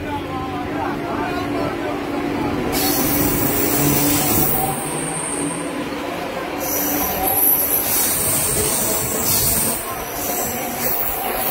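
A newly inaugurated train leaves Bally station with a steady, loud rumble of wheels on rails, high metallic squeals rising and falling over it, and a voice talking intermittently on top.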